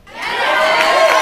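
A live audience breaks into cheering and shouting, rising quickly from a quiet start into a dense, loud, sustained roar of many voices that holds steady for about a second.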